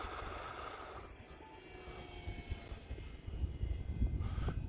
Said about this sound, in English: Doing the inverted aileron roll.